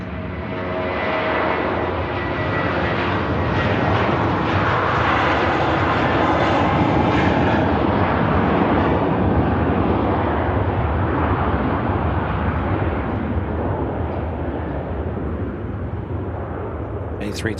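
An Airbus A321neo with IAE engines takes off from runway 05 left at Manchester Airport, a loud, sustained roar that builds and holds for many seconds before slowly fading as the jet climbs away.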